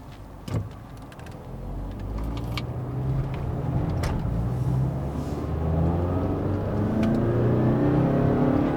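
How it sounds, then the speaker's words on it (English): A 2016 Mazda CX-5 with a Sprint Booster in level 9 sport mode accelerating hard, the engine and road noise rising steadily into a louder, sustained drone after a brief click at the start. "As soon as I hit the gas, the response is instant."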